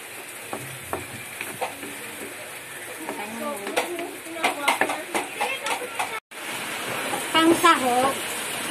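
Hotdog pieces sautéing in a pan for sweet spaghetti, giving a steady sizzle with occasional stirring clatter, while a voice talks over much of it.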